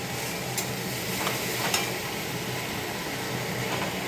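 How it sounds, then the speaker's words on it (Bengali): A spice paste for egg curry fries in a pan, giving a steady close sizzle, while a spoon stirs it with occasional light scrapes and taps. No voices. "এই যে মশলাটা, ডিমের মশলাটা ভেজে নিচ্ছি"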